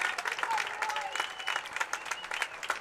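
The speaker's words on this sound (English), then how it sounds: "will earn himself a large round of applause" Crowd at a high school boys lacrosse quarterfinal applauds as the goalie is substituted late in the game, a steady broad wash of clapping throughout with faint voices mixed in.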